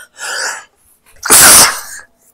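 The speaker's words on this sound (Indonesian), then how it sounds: "Ada gangguan bersin." A single loud, close human sneeze bursts out after a short sharp intake of breath, then silence.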